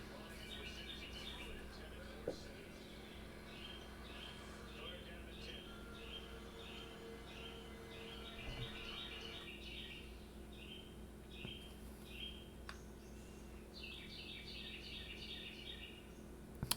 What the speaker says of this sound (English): Sounds like I'm in the middle of a bird sanctuary here.